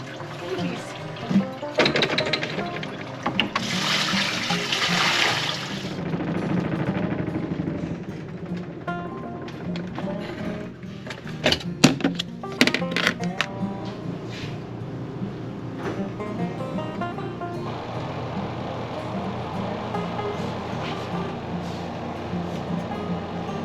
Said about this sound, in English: we put our small laundry machine to work